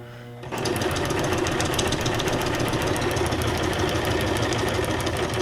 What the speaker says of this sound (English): I'm just doing like a straight stitch on it